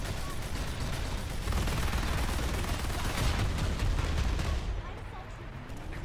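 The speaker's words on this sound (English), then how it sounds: "there's a lot of fucking shooting going on here" Rapid gunfire rings out in the online shooter PlanetSide 2 during a large battle. Dense, overlapping shots and bursts stay loud and continuous, then thin out near the end.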